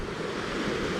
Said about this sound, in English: There you go, that's Marrinup Falls.